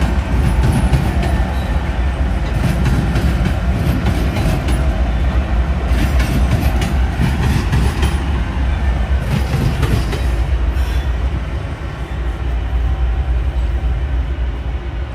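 A train with six locomotive units passes at Roseville with a loud, continuous rumble and rolling wheel noise throughout, plus faint clacking.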